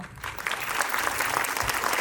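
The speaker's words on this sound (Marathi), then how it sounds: "सगळ्या ऑडियन्सला रिक्वेस्ट करेल की एकदा स्वतःसाठी टाळ्या वाजवून बघा" Steady, dense clapping from a large fashion show audience, loud and continuous throughout with no pauses.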